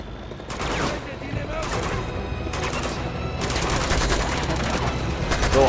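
Gunfire in the video game Uncharted 2, heard as several clustered volleys of rapid shots over a steady, loud combat background, with brief gaps between the bursts.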